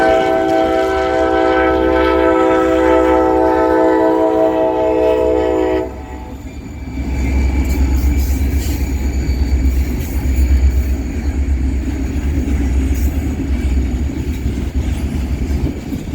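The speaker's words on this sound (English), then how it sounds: "KCS Job 16 would enter the yard limits of Gulfport with 4 standard cab EMDs" A Kansas City Southern freight train led by four standard cab EMD locomotives, including an SD40-2, enters a Gulfport yard with a long, loud horn blast, then deep engine rumble and rolling wheel clatter close by.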